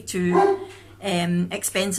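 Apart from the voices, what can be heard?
dogs barking at a squirrel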